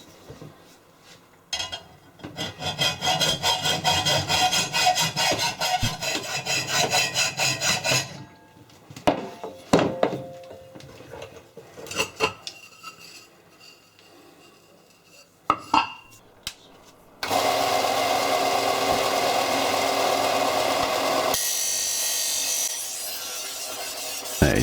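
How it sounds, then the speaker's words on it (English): A disc sander grinds a heavy metal bar in a workshop, with bursts of harsh, raspy abrasive friction broken by pauses of scraping and handling clatter, then a long steady sanding drone toward the end. "That is so much quicker with this disc sander."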